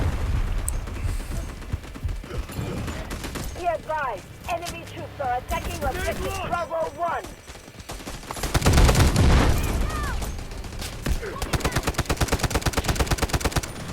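Rapid gunfire from the video game Delta Force rattles in bursts and sustained automatic strings, with a heavy volley toward the end, mixed with game effects and someone talking over it.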